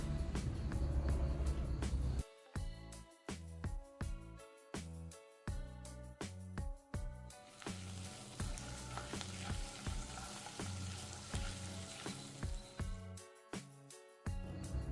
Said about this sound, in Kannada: ಇದನ್ನು ಸ್ವಲ್ಪ ಹೊತ್ತಿಗೆ ಫ್ರೈ ಮಾಡುವ.